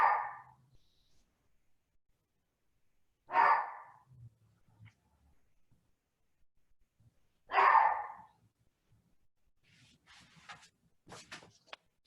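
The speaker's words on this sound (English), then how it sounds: "that's my old gal barking at my neighbor." An old female dog lets out three loud, separate barks at a neighbor, spaced several seconds apart, with quiet gaps and faint clattering between them.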